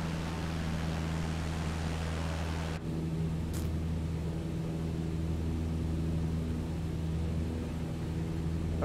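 Airplane in Microsoft Flight Simulator 2020 flying over mountainous terrain in Minas Gerais, a steady loud engine drone with a constant low hum running throughout, one brief dip partway through, no talking.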